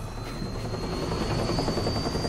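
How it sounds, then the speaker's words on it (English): Helicopter in the video game Metal Gear Rising: Revengeance, a steady loud rotor drone with a whining tone, continuous and close for the whole stretch with no talk over it. "Oh, helicopter."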